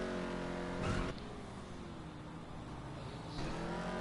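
Vapid Dominator GTX muscle car engine in GTA Online, a steady rumbling drone with a brief surge of revving near the start and another rise toward the end, no voices over it.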